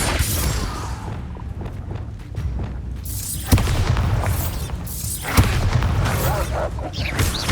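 Fiery Confringo spell blasts go off in Hogwarts Legacy, with heavy booming explosions and crackling debris that surge loudly around two sharp impacts while combat effects rumble between them.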